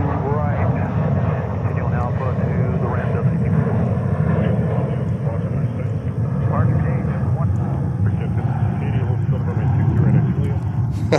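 A jet airliner departs JFK airport with a loud, sustained engine roar that holds steady and close, broad and rumbling throughout, with voices talking over it.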